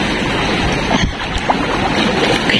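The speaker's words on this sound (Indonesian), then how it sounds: "Kayaknya ombaknya naik nih." Ocean waves surge and wash around at a surf spot, a rough rushing swell mixed with heavy wind buffeting on the microphone, continuous and close throughout.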